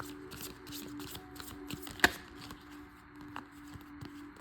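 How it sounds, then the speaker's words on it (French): Light scattered taps and clicks of a pen being batted about by a cat, with one sharper knock midway over a low steady hum. "c'est mon chat qui joue avec un stylo"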